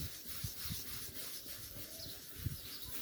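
Faint, rhythmic scrubbing and scraping against a dull car headlight, with soft repeated rubbing strokes and a few small knocks.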